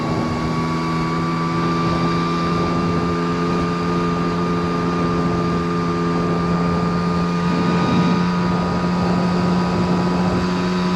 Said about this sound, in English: Chugging along right about 20.